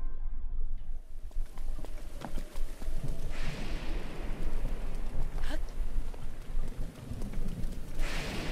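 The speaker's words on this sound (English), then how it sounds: "Wait, it's raining again." Rain patters steadily in a video game scene, mixed with rhythmic hoof-like clopping and occasional brighter hissing bursts, without any clear talking.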